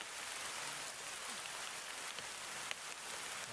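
Steady rain falls as a constant wash of hiss and patter on surfaces, with a few sharper drops standing out, fairly faint and unbroken throughout with no talking.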